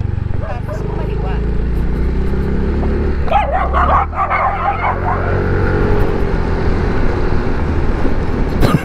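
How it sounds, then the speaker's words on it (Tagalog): Dog barking beside a road in Teresa, Rizal, heard amid steady vehicle engine rumble and road noise, with a burst of barks in the middle and people talking over it. "Yung aso."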